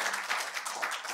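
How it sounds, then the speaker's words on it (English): A short burst of audience applause at an academic conference session, a busy patter of many hands clapping at moderate volume. "one more round of applause for Professor Lee."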